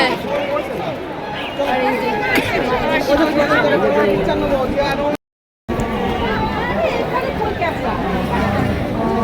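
A dense crowd chatters in front of a temple, steady overlapping voices and general hubbub close around, with one brief dropout partway through.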